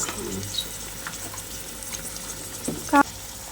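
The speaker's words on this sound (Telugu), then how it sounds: "ఇప్పుడు ఉల్లిపాయలు పచ్చిమిర్చి వేసుకున్నాం" Onions and green chillies fry in heated oil with a soft, steady sizzle at moderate level, broken by a few light utensil taps and a sharp metallic clink near the end.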